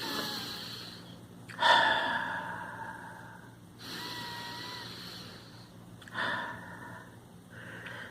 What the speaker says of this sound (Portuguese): Vamos respirando fundo.